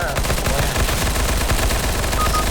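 Rapid bursts of automatic gunfire in Counter-Strike: Global Offensive crackle nearly nonstop, loud and dense, the shots running together in quick rhythmic volleys.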